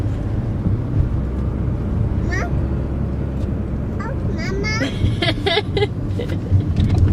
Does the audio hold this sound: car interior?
yes